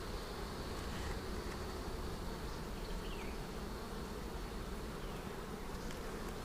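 Honey bees hum in a constant, dense drone during a hive inspection while boxes are being added, a close and steady buzz with no pauses.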